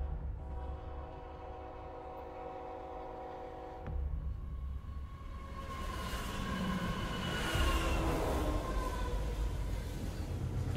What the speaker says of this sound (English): This train is about to arrive at the incident site.